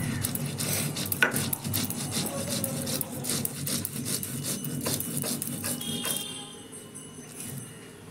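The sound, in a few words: grinding soaked rice and green chilli on a grinding stone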